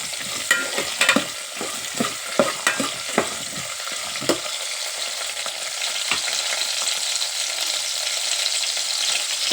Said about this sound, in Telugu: తర్వాత ఉల్లిగడ్డలు వేసుకున్నా ఒకసారి కలుపుదామండి